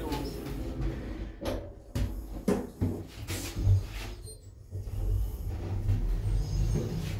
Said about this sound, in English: Hear that one? These doors.